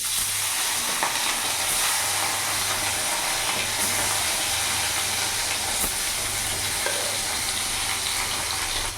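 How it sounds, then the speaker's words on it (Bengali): Bata fish frying in hot mustard oil, a constant close hiss and crackle of sizzling oil with faint occasional pops, steady throughout and free of talk. "তেল গরম হয়েছে, আমি এক এক করে মাছগুলো ছেড়ে দেবো।"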